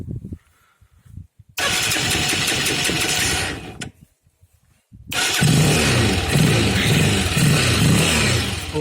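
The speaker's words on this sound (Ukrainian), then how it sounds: "я спробую якимось чином отак ногою подрижати, щоб тільки завести двигун" A motorcycle or scooter engine running without a battery is kick-started, and after a pause it catches and runs in a loud, steady idle. Two long bursts of engine noise are broken by near silence with faint handling clicks.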